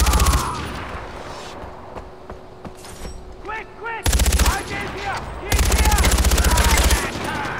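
Automatic gunfire in Far Cry 4 fires in long rapid bursts, loud and close, with quieter shots and clatter beforehand and someone talking in between.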